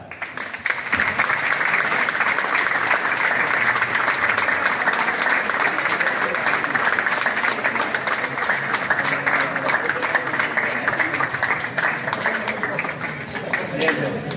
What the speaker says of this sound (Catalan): Us agrairia que el rebeu amb un fort aplaudiment, a mesura que vagin entrant.